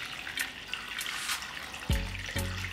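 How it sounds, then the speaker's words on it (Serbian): Water poured into a pot holding jars of meat, filled up to lid height: a steady trickling pour with brief stronger splashes near the end, close and without talk. "I sipat ću vodu do visine poklopca."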